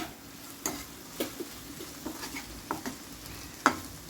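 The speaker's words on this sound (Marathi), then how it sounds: "भाजी फिरवून घ्या" Vegetables being stirred in a pan with crushed peanut powder, a few scattered scrapes and light taps of the spoon over a quiet sizzle, with one sharper clack near the end.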